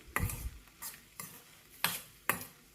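Grated coconut sautéed lightly in a pan over a low flame for chutney, heard as a few separate scraping stirs of a spatula with faint sizzling between them, close and fairly quiet.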